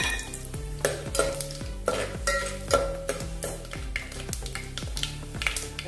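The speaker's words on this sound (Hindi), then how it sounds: "भुन भी गए हैं अपने मसाले, खड़े मसाले।" Whole spices for soyabean biryani fry in hot oil in a pan: cinnamon, black cardamom, mace, green cardamom, cloves and black peppercorns. A steady sizzle runs under repeated scraping and stirring strokes of a spoon against the pan. Nobody speaks.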